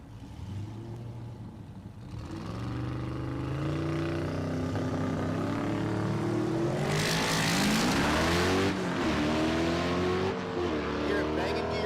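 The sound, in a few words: stick shift drag racing car at Mid America Dragway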